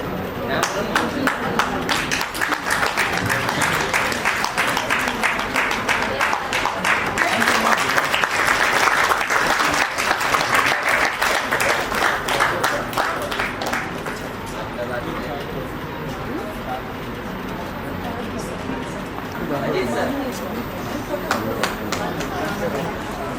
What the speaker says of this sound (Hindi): जोरदार तालियां, टीचर्स मनोबल बढ़ाएंगे, जोरदार तालियों।